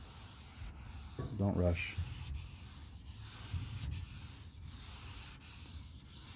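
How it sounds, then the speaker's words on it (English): Hand wet sanding on the package tray of a 1967 Pontiac GTO body, a steady close rhythmic rubbing in long strokes, with someone speaking briefly over it near the start. "Thing about wet sanding is take your time."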